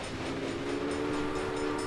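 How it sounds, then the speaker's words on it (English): Steam train whistle sounding in the Railway Empire video game, a steady sustained tone held over the whole stretch above a rumbling rolling-stock background. "We can even blow the whistle."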